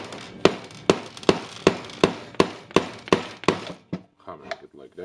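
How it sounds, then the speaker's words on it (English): Hammer blows striking parts out of a Makita HR2470 rotary hammer during repair, about ten sharp metallic knocks in a steady rhythm, followed by softer scattered taps. "hammering it like that."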